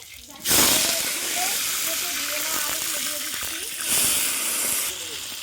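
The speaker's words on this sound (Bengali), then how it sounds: "কড়াইটা ভালো করে গরম করে আন্দাজ মতো তেল দিয়ে দিচ্ছি প্রথমে আলুগুলো ভেজে নেব গরম তেলে" Potatoes fry in hot oil in a heated wok, a steady close sizzle and hiss running throughout with a louder burst near the start and another toward the end.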